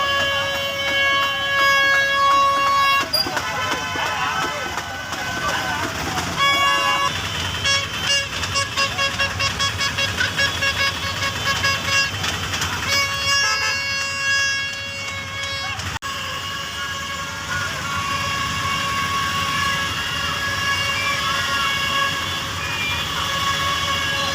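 Congested market traffic with trucks, buses and autos idling, horns tooting repeatedly in long and short blasts, engines rumbling loud and close, with voices talking now and then.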